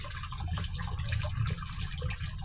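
Creek water running steadily over deteriorating shale bedrock, a close, continuous babbling rush with no pauses and no voices.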